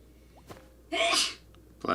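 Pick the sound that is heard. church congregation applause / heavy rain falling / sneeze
sneeze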